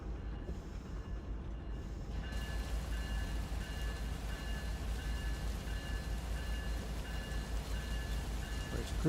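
Freight train rolling steadily along the track in the Run 8 train simulator game, an autorack train out of San Bernardino, with a continuous low rumble and faint high tonal hum, no talk.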